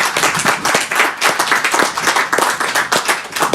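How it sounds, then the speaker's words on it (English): A live audience gives a steady round of applause for an event's sponsors and partners at a Rochester indie music spotlight, with dense overlapping hand claps filling the room, loud and close, with no talk over it. "So let's give all of the sponsors and partners a round of applause."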